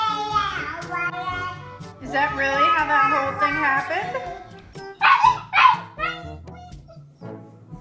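A dog barks in short bursts among loud child and adult chatter in a lively home scene, the yaps rising sharply near the middle and mixed under ongoing talk.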